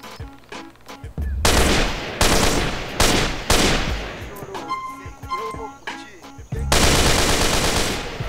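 Rifle gunfire from a GTA San Andreas weapon mod: loud sustained automatic bursts separated by short pauses, with quieter background game sounds and a voice between the volleys.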